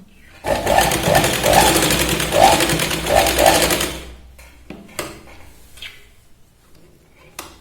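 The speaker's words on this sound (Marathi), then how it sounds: "याच पॉईंटपासून आपण डबल इथे शिलाईन लावून घेतो" A sewing machine double-stitches the hem of a baby girl's pant, running in a fast, steady, close rattle for about three and a half seconds before stopping, followed by a few light clicks.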